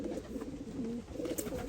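Racing pigeons coo softly at a loft after a training toss, a low continuous murmur of calls against faint background noise.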